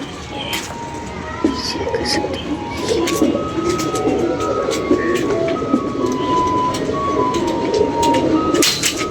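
Pigeons coo softly and repeatedly nearby over a steady background rumble, with light rustling and occasional clicks.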